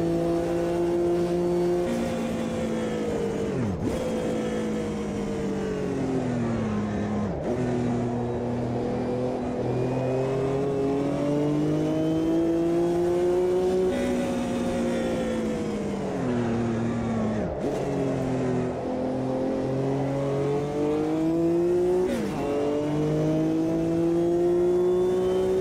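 Porsche race car engine in Automobilista 2, revving steadily with pitch rising and dropping through repeated gear changes, loud and continuous with no talk.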